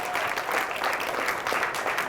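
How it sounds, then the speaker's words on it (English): Enthusiastic audience applause for the Women's Club of Clayton at an arts center gathering, a loud, dense, continuous clatter of many hands throughout. "begin with a great round of applause for the Women's Club of Clayton"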